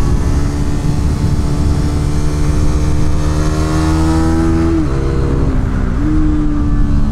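A small motorcycle is ridden hard on a big race track. Its engine drones loud and steady right up close as a strained high-revving buzz, with pitch dips at about five and six seconds as it shifts gears, and no talking.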